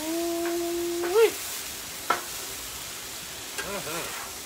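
Chicken stir fry with mushrooms sizzles faintly in a hot pan, with a few scrapes and knocks as it is stirred and mixed, plus a brief tonal beep early on.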